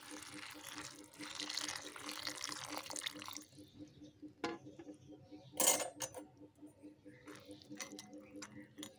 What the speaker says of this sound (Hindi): इसमें डाल देंगे पानी।